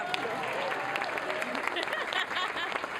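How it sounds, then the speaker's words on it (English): An audience claps steadily at a student television awards ceremony, a dense, even wash of many hands with faint talk mixed underneath. "give that a round of applause"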